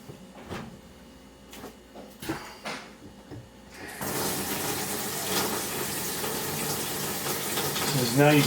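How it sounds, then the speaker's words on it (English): Hot water from a sink faucet in a mini barndominium, a few faint knocks and clicks, then water gushing steadily and loudly from the tap, filling the line. "I'm going to turn my hot water on my sink so we got that line good and full"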